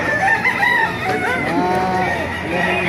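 A rooster crows loudly nearby at a market in Baliuag, its long wavering call rising and falling, with other birds and faint voices in the background.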